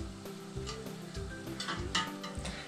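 Quiet sizzling of doughnuts (oponki) frying in hot oil, a steady crackle with occasional soft pops and light clinks nearby.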